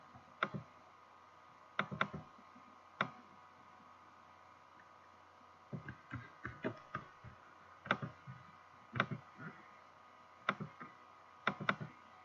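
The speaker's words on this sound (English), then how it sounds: "I'm just double clicking it in the text element" Computer mouse buttons click in quick pairs and singles, sharp close ticks spread irregularly across a quiet room with faint background hiss.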